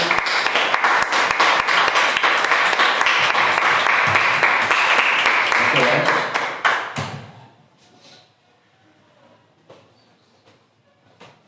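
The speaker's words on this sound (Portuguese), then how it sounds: "Que as palmas louvem ao Senhor" A church congregation claps during a Sunday family worship service, a loud, sustained wash of hands for about seven seconds that then fades quickly into near silence with a few scattered faint sounds.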